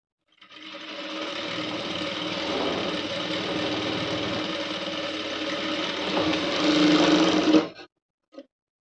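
An electric sewing machine runs continuously for several seconds while stitching a blouse shoulder seam, a close steady whirring buzz that speeds up slightly near the end before stopping, followed by a brief click.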